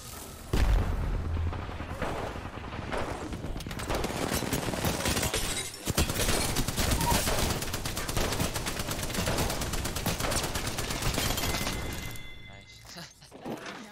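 Sustained rapid gunfire in Apex Legends, dense bursts of automatic shots and impacts running almost continuously before trailing off, with a player talking over the firefight.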